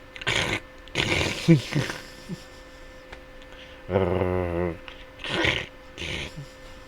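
A voice imitates a dog's low growl for about a second, between bursts of nearby breathy vocal sounds and talk.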